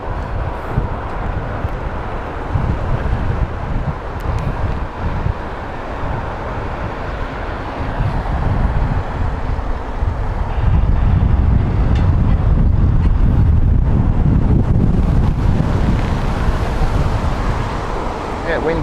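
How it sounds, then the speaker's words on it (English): Wind blows across Heathrow Airport, buffeting the microphone with a low, rough rumble that strengthens partway through, while people chat nearby. "Wind's picking up."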